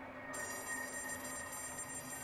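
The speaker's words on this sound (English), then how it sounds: "I hear a phone. Someone want to pick that up?" A telephone rings with a bright, steady electronic trill that starts abruptly a moment in and holds, fairly quiet against a faint background hum, with no talking over it.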